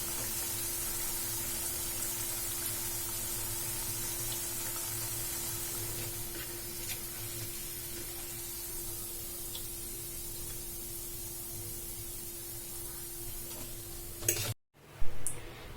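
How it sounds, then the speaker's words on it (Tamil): Steady sizzle of evening snacks frying in hot oil, a continuous hiss with a faint hum, ending in a brief clatter. "ரெண்டு சைடுமே நல்லா ஃப்ரை ஆயிடுச்சு."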